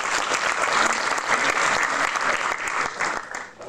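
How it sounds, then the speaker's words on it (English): A room at a school board meeting breaks into sustained applause for student athletes, dense steady clapping from many hands that holds for several seconds before starting to thin out. "You all deserve another round of applause."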